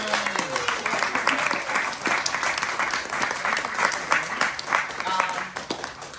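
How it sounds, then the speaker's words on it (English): Sustained applause from an audience at a photography talk and panel event, steady dense clapping filling the whole stretch with some voices mixed in. "give one more round of applause for these amazing photographers"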